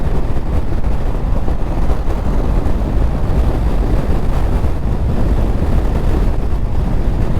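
A Harley-Davidson Street Bob or Low Rider S cruises on a highway, its engine rumble blended with heavy, constant wind roar across the microphone.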